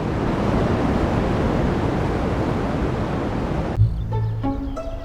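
Steady, even hiss of radio noise picked up by the horn reflector antenna at Bell Laboratories, the cosmic background signal left over from the Big Bang. The static runs loud and unbroken, then cuts off abruptly near the end to faint tones.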